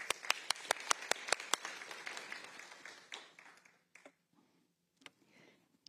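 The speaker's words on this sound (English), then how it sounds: "Give her a warm applause." Applause from a conference audience, starting with sharp, loud claps that thin out and fade over several seconds into a quiet room with a few scattered late claps.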